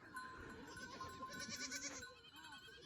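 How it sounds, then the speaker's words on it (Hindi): A herd of goats crowds around villagers feeding them fodder in a village near the Pakistan border, with faint bleats and a tinkling bell over a steady outdoor murmur. "तो भाई ये बकरियों को खिला रहे हैं चारा और एक साथ सारी बकरियों ने झुंड बना लिया है"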